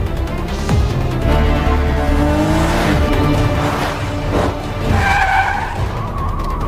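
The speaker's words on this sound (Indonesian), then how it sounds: "Ia pun kemudian kabur melarikan diri, memicu aksi kejar-kejaran antara mereka." Tires skid and screech during a film car chase, with engines revving loudly and squeals rising and falling in several bursts.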